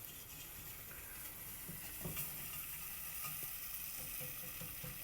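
Chicken pot pie sauce thickened with flour bubbles and sizzles softly in a pan, a faint steady fizz with a few small pops and clicks and no talking.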